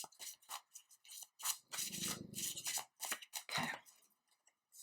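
Quick, crisp riffling and slapping of tarot cards being shuffled, in short bursts with brief pauses between, close and quiet.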